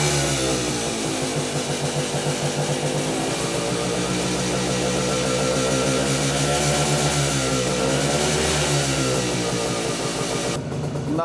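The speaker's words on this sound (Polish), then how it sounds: "Na wolnych obrotach z włączoną przednią lampą." A Cezeta scooter engine idles steadily and close with the headlamp switched on, a continuous rough mid-pitched putter with fast regular pulses that holds for about eleven seconds.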